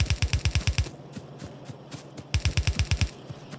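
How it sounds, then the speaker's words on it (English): Gun turrets in Factorio fire in rapid bursts of sharp automatic shots, two clear volleys of about seven rounds each with scattered single shots between, loud and close. "So you gonna defense you factory with gun turrets?"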